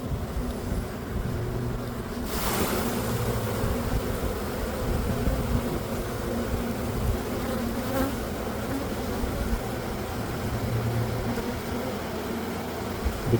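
Honeybees buzzing loudly and steadily as a brood frame is shaken during a spring hive inspection in Melbourne, a dense close insect drone with no talk.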